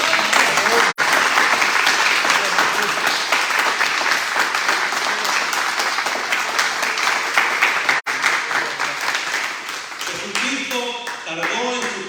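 A church congregation claps and applauds for the Lord in a dense, sustained round that runs steadily for about ten seconds before thinning out, with brief cutouts along the way.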